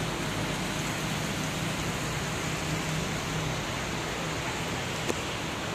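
Steady, dense storm rain hisses evenly throughout, a soft continuous wash with no voices.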